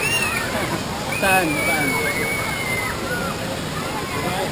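The Tala River flows with a steady rushing, sloshing wash that stays constant and fairly close, while people talk over it.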